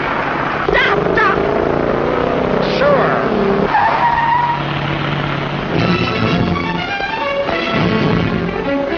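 A car tears along at high speed with tires skidding and squealing in an old crime drama, the loud engine and screeching running under overlapping shouted voices throughout.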